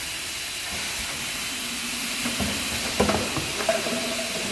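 An electric blow molding machine making HDPE containers gives off a continuous steady hiss, with a few louder mechanical clicks and knocks toward the end.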